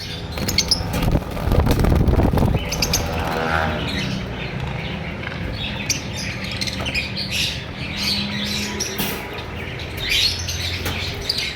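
Red-eyed albino personata lovebirds, a breeder pair, give busy overlapping chirps and squawks close by. A burst of wing flapping comes early on, and a light wind-like hiss sits under the calls.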